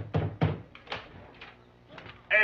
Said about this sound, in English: Famous Door Slams.